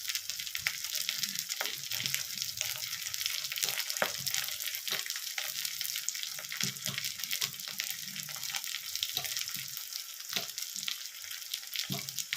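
Vegetables with sweet potato frying in a pan for chochori, a continuous close sizzle broken by frequent scraping stirs and clicks, with no talk over it.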